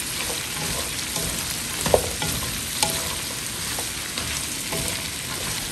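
Calabrian beans stirred in a frying pan while cooking sotanghon guisado, a constant close sizzle with soft scraping strokes and a couple of sharper clicks, no voices.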